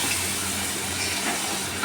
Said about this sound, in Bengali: তারপরে আমি একটু জল দিয়ে দেবো।